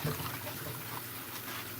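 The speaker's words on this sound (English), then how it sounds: "Right after rinsing these with my water here" Water runs steadily while napa cabbage leaves are rinsed, a close, soft splashing trickle that lasts the whole moment.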